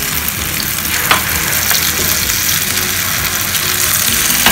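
Akara bean fritters fry in a pan of hot oil with a loud, steady sizzle and crackle, broken by a few sharp pops, and no one speaks over it.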